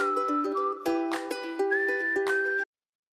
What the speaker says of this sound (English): I only know how to whistle with my lips and tongue